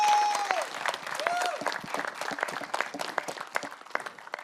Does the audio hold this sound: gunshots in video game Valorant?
no